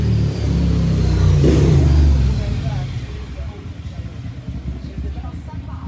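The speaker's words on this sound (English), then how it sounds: "motorbikes coming roaring" Motorbikes roar past close by, one engine revving loudly at first, then fading into a rumbling drone of passing traffic.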